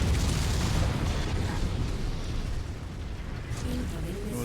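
A missile explosion in the video game MechWarrior 5 makes a loud, dense, rumbling blast that fills the clip and slowly thins out, with voices talking over it.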